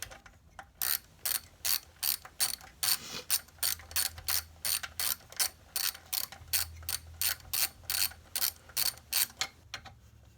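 Ratchet wrench loosening the 5/16 muffler bolts on a Tailgator generator with a knocking fault. Close, rapid ratcheting bursts repeat in steady strokes for about ten seconds, with brief pauses between pulls and no talking.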